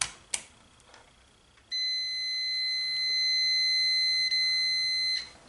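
Digital multimeter continuity beep while testing a mud mower's wiring: a single steady, shrill electronic tone held for about three and a half seconds, close and clear after a couple of faint clicks, with no talking.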